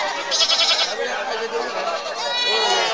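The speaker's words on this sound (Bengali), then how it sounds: "আমার চতুর্দিকে খালি ছাগল আর ছাগল।" Many goats bleat over one another at a crowded outdoor livestock market, their overlapping cries continuous and close, with people's voices mingled in.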